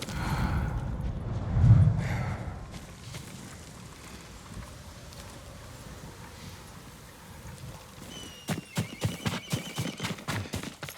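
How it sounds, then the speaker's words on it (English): A horse in the video game Ghost of Tsushima gives a loud, close whinny at the start. Later, a run of crisp, rhythmic hoof clip-clops follows over soft outdoor ambience and wind. "Yuriko's horse. She can't be far."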